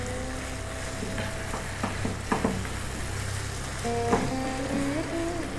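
Small fresh red chilies fry in oil in a wok with a steady, fairly loud sizzle and hiss, broken by a few clinks and scrapes of stirring, no talk.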